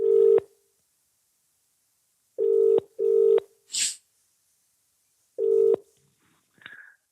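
A phone line rings out while calling a hotel reception desk: repeated paired electronic ring tones with long gaps between them, plus a couple of short, fainter tones near the end.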